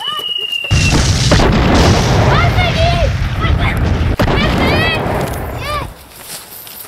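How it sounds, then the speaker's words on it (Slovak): A grenade blast in a video game bursts out loudly and rumbles on for several seconds, with excited voices shouting over it. "Granát!"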